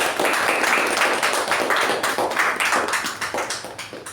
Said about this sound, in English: let us recognize our member with a good round of applause